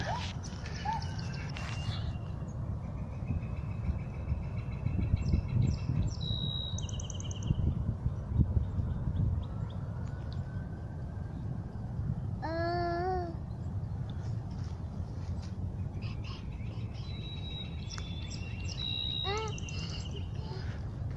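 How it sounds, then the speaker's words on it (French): Several birds chirp and trill outdoors in scattered bursts over a steady low rumble of movement, with some calls nearer and louder and others faint in the background. "C'est extraordinaire, toute la faune des oiseaux, là, les oiseaux, c'est fou."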